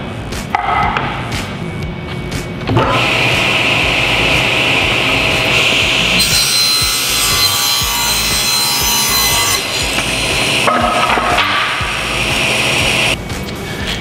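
A power saw makes an angled cut through a wooden board for a birdhouse build. It spins up, then rips loudly and steadily through the wood for about ten seconds at close range, changes pitch partway through, and winds down at the end.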